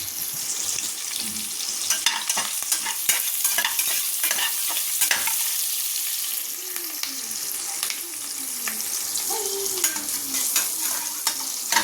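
Masala sautés in a pan for spicy Kerala-style chicken gravy, with a continuous loud sizzle and repeated scraping strokes of a spoon close by.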